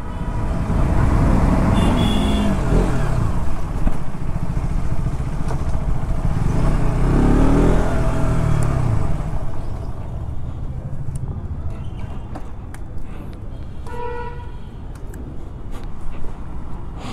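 Busy road traffic with cars and motorcycles passing, a constant loud engine rumble close by, with horns beeping near the end.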